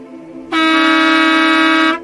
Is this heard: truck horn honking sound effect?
yes